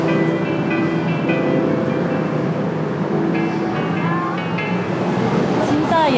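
Bangkok subway train running, a steady loud rumble of the carriage with rising and falling whine from the motors and brakes, continuous throughout with some voices mixed in.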